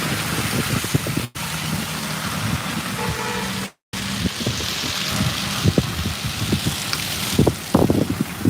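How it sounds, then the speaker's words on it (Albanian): Wind buffets a microphone outdoors during snowfall, a loud continuous rumbling roar with gusty bursts and two brief dropouts, no voices present. "era ndikon shumë në cilësinë e zërit"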